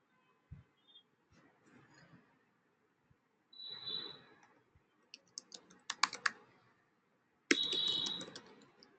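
Someone types a note on a computer keyboard in scattered bursts of close key clicks separated by pauses, with a few louder clusters of rapid keystrokes and a mouse click or two.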